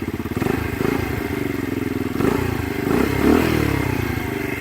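Close-up 50cc Barton Sprint motorcycle engine with a deep, throbbing bass rumble, revving slightly a couple of times before settling back to idle.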